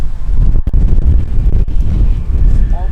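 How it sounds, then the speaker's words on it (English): Strong gusting wind buffets the microphone outdoors beside a parked car where two German Shepherds are out, a loud continuous low roar with brief dropouts and no speech. "It is super windy."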